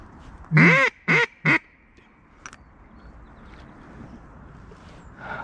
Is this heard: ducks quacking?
yes